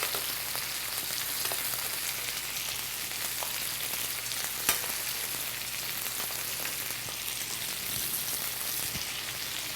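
Steak butter-basted in a hot pan with garlic and fresh thyme, a continuous close sizzle and crackle with scattered pops and light spoon clinks, no talking.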